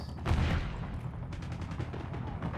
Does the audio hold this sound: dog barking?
no